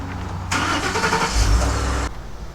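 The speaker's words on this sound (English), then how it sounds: "Somehow or another, I hit the remote start on the truck" A pickup truck engine starts by remote start, cranking and catching with a sudden loud roar, settling briefly, then cutting off after about a second and a half, close by with no talk.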